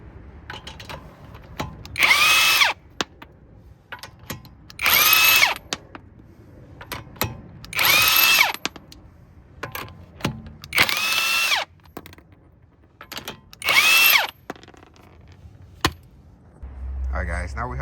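An impact-style power tool removes wheel bolts on a 2020 Buick Encore: five loud, close bursts of whirring and rattling, each about a second long, spaced by quieter pauses with clinks and light handling noise.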